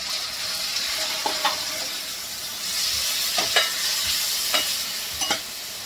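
Green peas sizzle steadily in a hot frying pan with tomatoes, a soft continuous hiss broken by several sharp scraping stirs of the spatula at irregular intervals.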